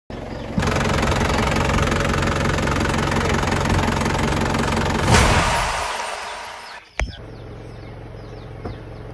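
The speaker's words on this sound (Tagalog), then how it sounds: "Captain, we have a complete engine failure. We're losing power rapidly." A ship's engine failing during an emergency simulation: a loud, dense mechanical roar runs steadily, then winds down and drops away into a quieter hum, with a sharp knock afterward.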